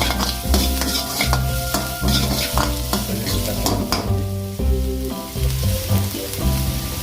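Vegetables being made into fried rice sizzle loudly in hot oil, with repeated stirring and scraping in the pan on a steady rhythm and no talking.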